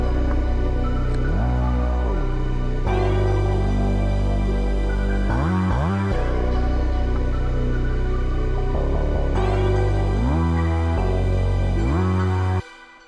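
Psychedelic beat outro with layered synth pads and a deep, gliding bass line over steady drums, playing loud and continuous before cutting off at the end.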